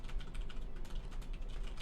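Typing on a computer keyboard with long fingernails, a quick run of soft, light clicks at close range, with a voice faintly in the background.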